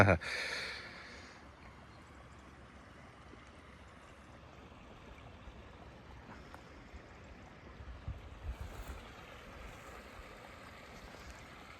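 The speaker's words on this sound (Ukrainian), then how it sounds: "водичка тече, шумить." Water flowing and babbling at a village pond, a steady broadband rush with light wind noise, running continuously at moderate level after a brief louder thump at the start.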